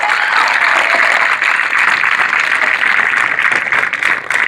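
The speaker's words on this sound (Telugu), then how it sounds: "బాలాజీ భవన్ పిల్లలు ఒకసారి గట్టిగా క్లాప్స్ కొట్టొచ్చు." Children at a school event clap loudly and steadily, a dense sustained applause filling the whole moment without any talking.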